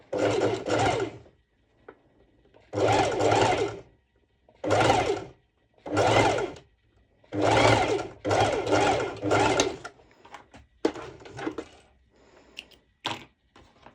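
A sewing machine stitches a stretch-net sporty top in several bursts of one to two seconds separated by pauses, followed by softer clicks and handling sounds near the end.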